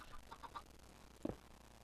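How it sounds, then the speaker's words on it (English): Chickens clucking in a video game: a few soft, quick clucks early on, then one louder squawk near the end, faint against a low ambient background. "Chickens. They're the worst in the world."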